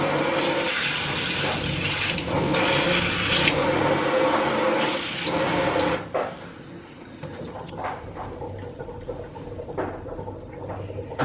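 A kitchen sink tap runs hard while aphid-infested plant leaves are rinsed beneath it, a loud splashing stream that cuts off abruptly, leaving quieter drips, soft handling clatter and faint movements.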